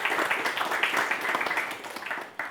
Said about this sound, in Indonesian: Boleh kasih tepuk tangan untuk mereka berdua.